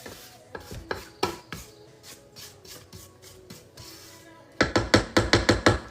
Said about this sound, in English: let's scrape our bowls down